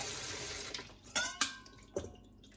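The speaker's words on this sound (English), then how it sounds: "I'm going to bring this bowl back, rinse it off a little bit" Water from a running kitchen tap splashes as a bowl is rinsed while making Brussels sprout risotto with blue cheese, a steady close flow broken by a few sharp clatters and splashes, with no talking.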